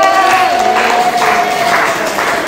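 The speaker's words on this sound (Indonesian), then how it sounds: "Oke, tepuk tangan." Applause in a classroom lesson on biotechnology, a steady, dense clapping wash lasting the whole short stretch, fairly loud and close, with a faint tone running underneath.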